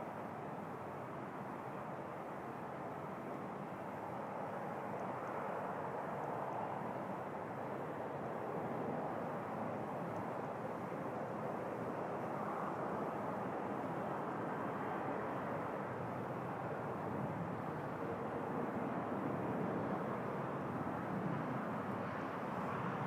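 A Boeing 787 airliner on short final to land at Toronto Pearson, its engines giving a steady, continuous broadband roar that holds level for the whole stretch, fairly distant with no talk over it.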